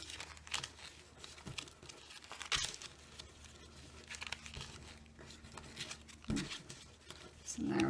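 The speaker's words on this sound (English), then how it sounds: "take this little stack that I have here, and I do an accordion fold with it here" A small stack of coffee filters being accordion folded back and forth, soft paper crinkling and rustling in repeated close bursts under a quiet speaking voice.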